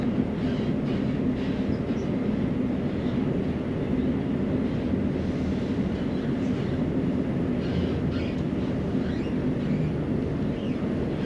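Onboard a train approaching South Gyle station near Edinburgh, a steady, loud interior rumble of wheels and motors continues without pause, with no voices.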